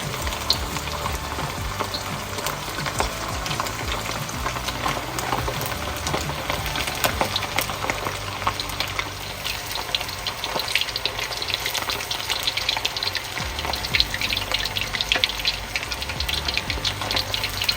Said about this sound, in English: So drop the steak cubes in one by one. We're going to need to fry this in 2 to 3 batches.